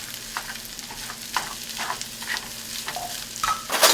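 Spam, diced potatoes and eggs fry in a pan while a spoon pushes them from the edges inward, a low steady sizzle with scattered soft scrapes, growing louder at the end.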